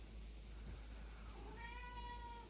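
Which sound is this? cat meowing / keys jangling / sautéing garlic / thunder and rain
cat meowing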